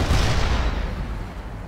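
A mobile mortar fires in World in Conflict, one loud, deep, booming blast that rolls off and decays over about two seconds.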